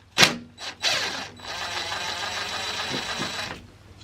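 A wrench works the single nut off the ground post of a water-cooled alternator: a few sharp metallic clicks, then about two seconds of steady close ratcheting and whirring.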